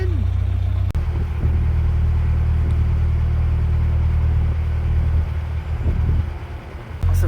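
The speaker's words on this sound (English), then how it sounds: "Big truck." Low, heavy rumbling fills the canalside scene as a big truck passes by. It sounds like a loud, steady engine drone that fades near the end, with a sharp knock early on.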